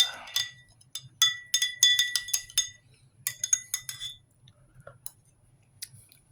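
A spoon clinks against the inside of a glass or cup while stirring a mango-flavoured drink mix with heavy sugar at the bottom, in quick rapid bursts of bright taps, then a few sparse clinks, close and fairly quiet.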